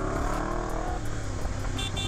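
A Yamaha MT-10 motorcycle engine revs hard, a loud throaty rise that drops off into a lower rumble after about a second, heard close and alone.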